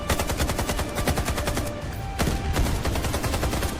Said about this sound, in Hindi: जवाबी फायरिंग हुई।